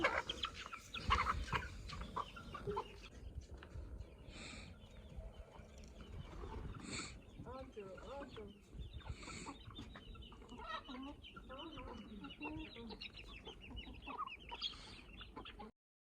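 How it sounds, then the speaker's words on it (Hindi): Hens cluck and chatter in a soft, ongoing murmur, with occasional sharper calls from a few birds nearby. "मैंने मुर्गियों को दाना डाला, वो सारी मेरे करीब आ गई और अपनी प्यारी प्यारी आवाज़ें निकालने लगी"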